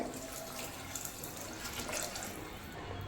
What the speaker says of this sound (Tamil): இப்போ இதில் தண்ணி ஊற்றிடலாங்க